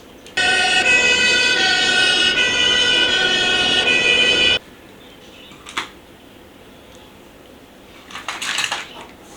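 Fire rescue bus siren wailing steadily for about four seconds, loud and close, then cutting off abruptly, followed by faint clinks and rustles.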